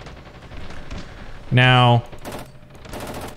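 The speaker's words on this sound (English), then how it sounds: "I got a coaxial mounted machine gun and the main cannon and that is it." A light tank's coaxial machine gun in the Ravenfield video game fires one short, loud, rapid burst of about half a second, with someone talking before and after over faint background game noise.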